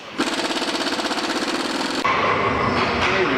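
An impact wrench rattles lug nuts off the wheel of a 2008 Ford Edge in a garage: a loud, steady hammering buzz that changes pitch and tone about two seconds in and keeps running.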